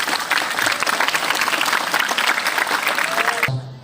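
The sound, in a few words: applause in a madrasa gathering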